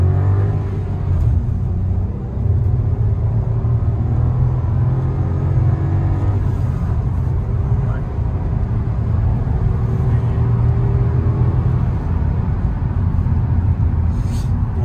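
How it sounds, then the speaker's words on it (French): A Seat Ibiza FR 1.0 TSI 110 hp turbo engine drives in sport mode on a circuit, giving a steady, loud interior rumble and whir with slight pitch rises as it accelerates, continuous for the whole stretch. "Je sais pas si on entend le turbo."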